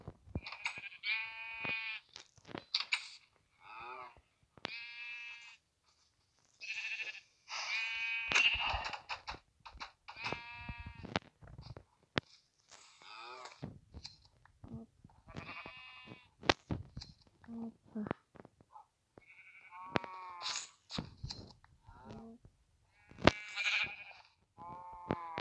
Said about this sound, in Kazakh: Осымен сары қойларды қырқып аламыз.